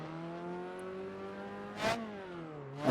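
A car's engine drones steadily in a video game car pack, built to sound like a 4-cylinder engine though the model has a 6-cylinder, and its pitch shifts slightly. A short whooshing burst cuts through partway and again at the end.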